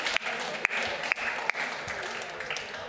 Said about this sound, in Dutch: Applaus, jawel.